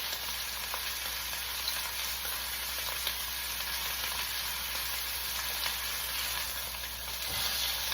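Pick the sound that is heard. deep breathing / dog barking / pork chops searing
pork chops searing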